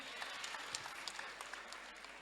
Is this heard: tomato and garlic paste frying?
no